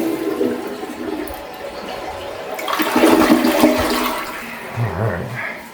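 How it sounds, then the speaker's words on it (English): A household toilet flushing in a home for sale in Fort Bragg, North Carolina, a loud rushing gush that swells midway and then drains off, with a faint gurgle near the end; no talking. "That was a flush."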